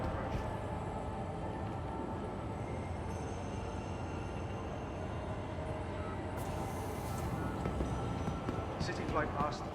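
Steady rumbling rolling noise of a train pulling into a spaceport in the video game Star Citizen, continuous throughout with a faint brighter hiss building near the end, murmuring voices in the background.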